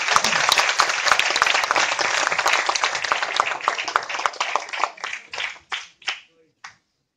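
An audience at a municipal award ceremony gives dense, lively applause that gradually thins into scattered claps and fades to silence.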